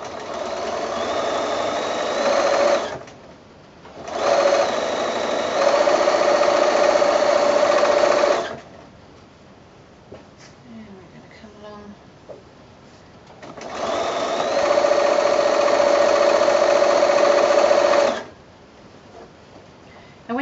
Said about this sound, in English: A little back stitch is quite helpful because you don't want this seam to start unraveling.